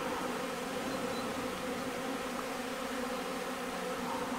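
Honeybees fly around a hive in February on a sunny, mild day, a dense and continuous buzzing drone from many bees close by that holds steady throughout.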